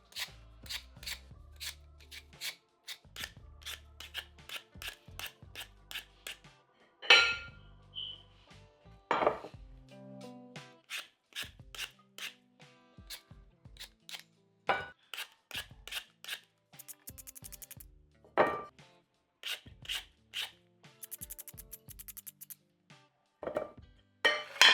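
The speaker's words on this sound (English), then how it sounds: "Cut the potatoes into bite-sized pieces." Yukon Gold potatoes cut into bite-sized pieces with a knife on a cutting board, a long run of crisp, rhythmic chops and taps, close and fairly loud, with no talking.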